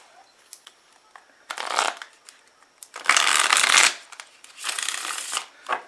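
Tarot cards are shuffled by hand in three or four quick riffling bursts, crisp and close, with brief pauses and small taps between them and no talking.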